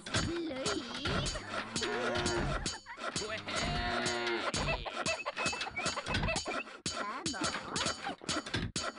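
Cattle moo repeatedly in the Beasts and Bumpkins video game, layered with clucking chickens and dense game sound, with nearly continuous loud lowing and bleating across the whole stretch.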